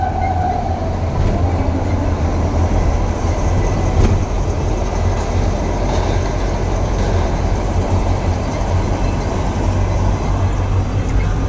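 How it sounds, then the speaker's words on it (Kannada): A train rolls past steadily for several seconds, a loud, continuous rumble of rail wagons with faint clicks, heard near the tracks along a road route in Assam. "ಟ್ರೈನ್ ಹೋಗ್ತಾ ಇದೆ."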